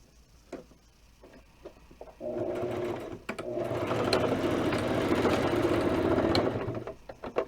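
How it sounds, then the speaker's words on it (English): A sewing machine stitches back and forth over Velcro on a small doll dress, starting with a few clicks, then running in two close, steady motor-and-needle bursts of about a second and four seconds, with no speech over it. "we're going to run a bunch of stitches back and forth right here"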